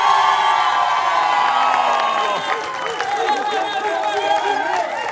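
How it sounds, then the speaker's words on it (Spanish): A television studio audience applauds and cheers, with loud sustained clapping, shouts and whoops from a crowd filling the whole stretch without pause. "Ahora voy a pedir el aplauso para Donovan."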